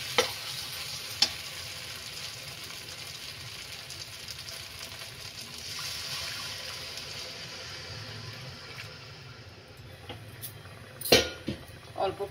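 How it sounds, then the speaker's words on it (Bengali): Spice paste fries in oil for a Bengali poppy seed parwal curry, a steady sizzle with occasional clinks and scrapes of a spoon on the pan. It ends in a few sharper metallic knocks. "এখন আমি মশলাটা ভালো করে ভেজে নেব।"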